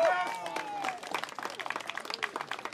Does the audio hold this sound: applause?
yes